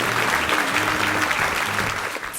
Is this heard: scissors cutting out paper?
no